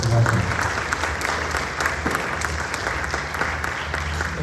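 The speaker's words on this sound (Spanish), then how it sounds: "Un aplauso nuevamente para Rafael." Audience clapping steadily at an academic journal presentation, a dense, sustained applause filling the room from start to finish with no pause.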